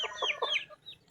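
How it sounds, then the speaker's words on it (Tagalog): A Talisay hen, a Philippine chicken breed, gives a short run of quick, close clucks, soft and alone with no talk over them. "Sinama natin si Makiling, ang talisaying inahin,"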